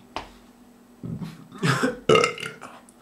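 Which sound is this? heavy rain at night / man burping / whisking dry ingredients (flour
man burping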